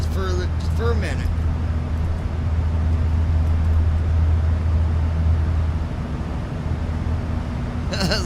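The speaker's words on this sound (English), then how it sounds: "Listen to them engines, man. It sounds so good." A brand-new airplane's engines run with a steady, loud low drone and constant hum, while a voice talks over them.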